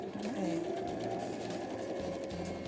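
A sewing machine runs a steady, continuous stitch along the seam of a fabric school pencil case, close and unbroken for a few seconds.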